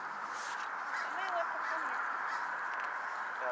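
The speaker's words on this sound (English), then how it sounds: "That crow up there is going crazy." Crow cawing in a cemetery in Portland, Oregon, several harsh calls from somewhat far off over a steady outdoor background, with faint voices nearby.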